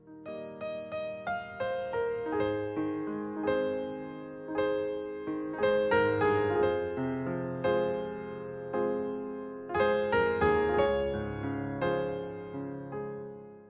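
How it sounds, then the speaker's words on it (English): Piano playing a classical-era piece, with flowing chords and melody, struck notes decaying in a steady rhythm, close and clear with no voices. "Piano sounds like this."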